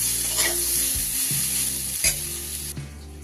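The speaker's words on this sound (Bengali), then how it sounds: "এবার আমার পেঁপেগুলো কিন্তু বেশ ভালোই ভাজা ভাজা হয়ে গেছে" Papaya pieces frying dry in a pan, a steady hiss of sizzling with a few scraping stirs and utensil knocks against the pan, close and continuous with no voices.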